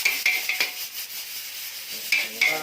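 Pork stirred in a pan of hot oil with onion and garlic, a soft sizzle beneath sharp metallic scrapes of a spatula striking the pan in irregular clusters, close by with no talk.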